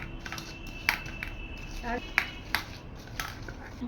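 Dry ingredients for Bengali fried bora batter, with salt added, are stirred in a bowl, giving light scattered clinks and scrapes of a utensil against the dish over a steady low background, with a few sharper taps standing out.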